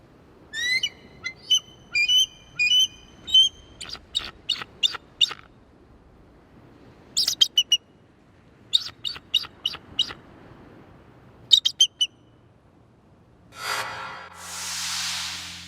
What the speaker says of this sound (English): This is what the bald eagle unfortunately sounds like.